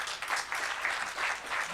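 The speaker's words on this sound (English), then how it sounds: "Let us give him a round of applause." An audience applauds a speaker at an industry and TVET college partnership event, with steady, moderately distant clapping that swells in waves and continues throughout.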